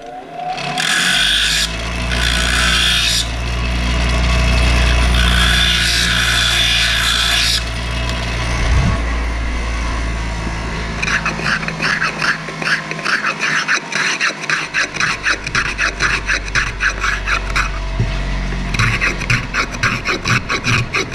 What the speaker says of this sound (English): Now I'll start doing a little handwork here, and I'll start shaving.